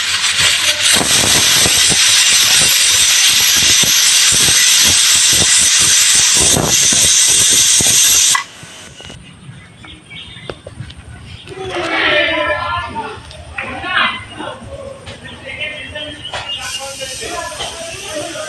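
A pressure cooker boiling jackfruit seeds on a wood-fired stove lets out one long, loud, steady hissing whistle for about eight seconds, then cuts off, followed by quieter clatter and a person speaking.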